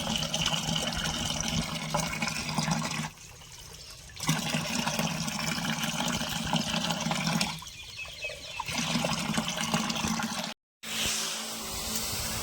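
Water poured into a pesticide mixture and stirred for spraying tomato plants, a continuous pouring and splashing rush that breaks off twice, then cuts out briefly before resuming.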